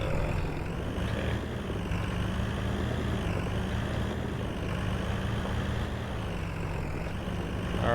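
A struggling 6x6 military truck in a video game, overheating, steaming and down on power, grinds out a steady, heavy, low engine drone that stays loud and unchanging throughout, with no talk over it.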